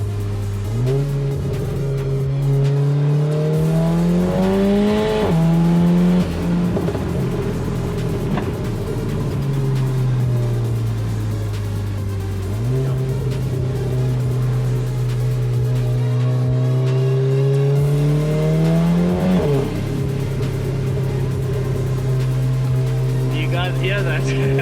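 A Volkswagen Golf 7 R tuned past 300 kW with a screamer exhaust accelerating hard from inside the car, engine note climbing through gears in repeated rising sweeps, loud and continuous.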